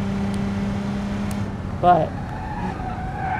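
A panel van's tyres skid briefly as the brakes lock up, a short squeal rising over a steady engine hum, with a voice speaking nearby.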